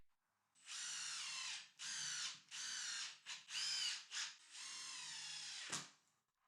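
Cordless drill driving screws into wood while building a garden bench, several loud whirring bursts of a second or so each, then a longer run ending in a sharp clack, with no talk.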